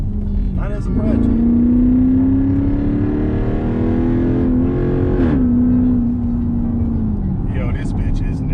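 A Jeep Grand Cherokee SRT8 with a loud straight-pipe exhaust revs hard nearby, its engine note climbing and holding for several seconds, then easing off, with people talking in the background.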